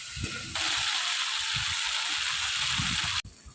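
Spice paste for a Bengali katla fish curry sizzles steadily in hot oil, a loud continuous frying hiss that cuts off near the end, with faint stirring knocks underneath.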